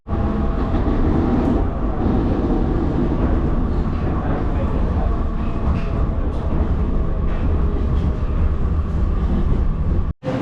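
A metro train running to an airport terminal gives a loud, steady rumble with faint clattering, heard from inside, until it cuts off abruptly at the end.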